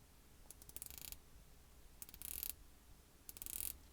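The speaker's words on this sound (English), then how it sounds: "Let's get some bezel action here." Christopher Ward C60 Sapphire dive watch bezel being turned in three separate bursts of crisp, rapid ratcheting clicks, close and fairly quiet, with short pauses between turns.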